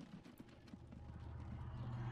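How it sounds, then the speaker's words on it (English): A horse-drawn trolley car in the Transport Fever video game, heard as faint, quick clip-clop hoofbeats over a low, rising rumble of wheels. "A horse trolley car, very good."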